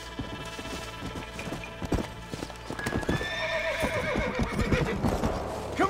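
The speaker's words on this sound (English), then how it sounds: "Come here, horse." In the video game Red Dead Redemption, a horse clip-clops near a boarded-up barn with steady hoof beats, then lets out a loud whinnying neigh partway through.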